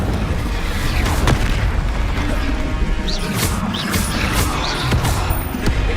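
Booming fiery blasts from the Incendio spell in the video game Hogwarts Legacy, with repeated whooshing bursts and crashes spread over a loud, busy combat din.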